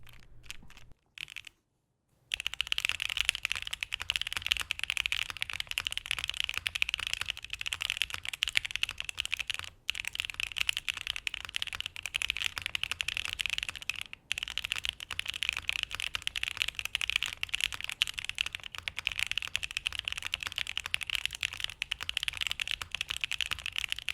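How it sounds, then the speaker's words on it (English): Steady, fast typing on a Ciel65 mechanical keyboard fitted with case foam cut down to size, a dense run of close clacks with two brief pauses near the start. "I'm going to add in some case foam from the KBD75 cut down to size"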